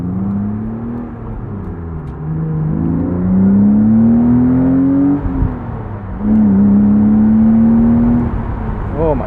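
A BMW S52 inline-six in a 1999 BMW Z3 M Roadster revs up through the gears, pitch climbing, dropping at a shift, then climbing again; loud and close, from inside the car.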